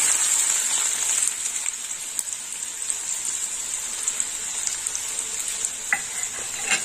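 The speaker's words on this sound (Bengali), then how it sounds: "এবার পেঁয়াজটা দিয়ে দেবো তেলের মধ্যে। দিয়ে দিলাম পেঁয়াজ।" Chopped onions dropped into hot oil sizzle loudly and continuously, a bright hissing spatter close up with occasional stirring clicks, and no voices.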